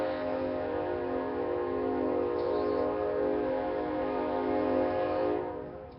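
A train sounding a long, steady horn that holds for several seconds with a sustained tonal chord, loud and continuous before easing off at the end; no talk.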